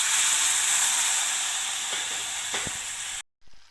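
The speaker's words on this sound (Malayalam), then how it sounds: "ഇതിലേക്കൊന്ന് കുറച്ചൊരു ചൂടുവെള്ളം ഒന്ന് ഒഴിച്ചു കൊടുക്കണം." Hot water poured into sizzling spice powders for mutton curry sets off a loud, steady steaming hiss close by that fades slightly, then cuts off abruptly, followed by a faint stir.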